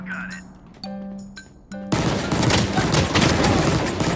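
Sustained SMG fire in Valorant begins about halfway through, a loud dense rattle following a few sharp game tones and clinks.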